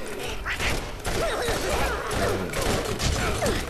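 Gunfire from the Borderlands video game rattles continuously as dense rapid shots, loud and close throughout the short stretch, with a voice faintly mixed in.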